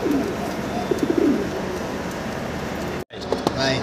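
Pigeons coo in a close, soft, repeated rumble over a steady background hiss, with a brief dropout near the end before the ambience resumes.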